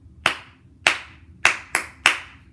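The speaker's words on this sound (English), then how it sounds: "then we clap out the rhythm" A teacher claps out a rhythm in a grade two music lesson, five sharp, close hand claps in an uneven pattern with silence between, the last two coming quickly together.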